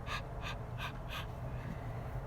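Four slow, breathy pants in an even rhythm, a voice imitating someone panting from the heat, close and soft over a low steady hum.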